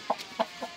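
A rooster gives three short, soft clucks in quick succession, close by and alone.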